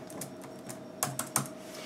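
Keys on a Lenovo laptop keyboard being fitted, with a few sharp plastic clicks as a large key snaps into place, close and fairly quiet over faint background hum.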